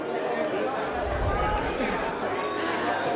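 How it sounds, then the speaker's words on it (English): A dense, loud crowd chattering at Nassau GOP election headquarters in Baldwin on election night, a steady wall of many overlapping voices with no pauses. "sounds like a loud crowd there already"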